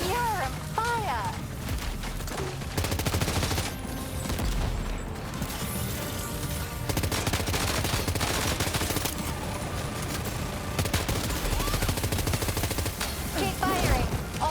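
Sustained gunfire in Death Stranding 2, dense rattling bursts and volleys of shots continuing throughout, loud and close, mixed with battle effects and occasional voice lines.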